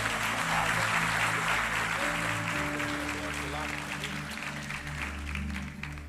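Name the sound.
applause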